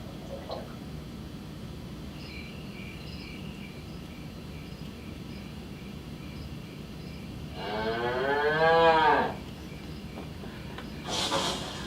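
A cartoon cow from an iPad story app lets out one long, wavering moo midway, preceded and followed by soft app chimes over a quiet background of cricket-like chirping.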